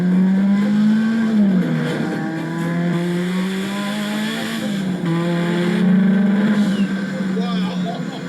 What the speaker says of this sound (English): That's an engine.